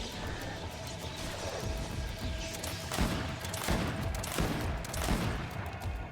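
Rapid gunfire in the video game Greedfall crackles in dense bursts, with several sharp, loud volleys hitting close together over a constant battle rumble.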